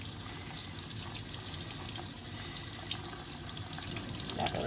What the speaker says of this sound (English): you want to rinse it all out so there's nothing else in there